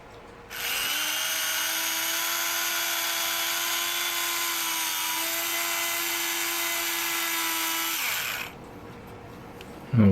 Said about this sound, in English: And then we can come in with our electric drill here.